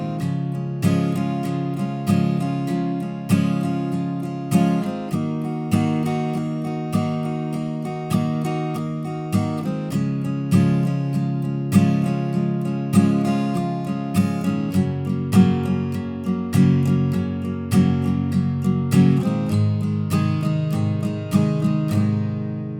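Guitar chords strummed in a steady, even rhythm, each strum cutting in crisply as the chords change every few bars, with no voices.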